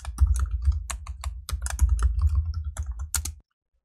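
Rapid typing on a computer keyboard, a close, dense run of crisp key clicks with a brief pause partway through, stopping abruptly near the end.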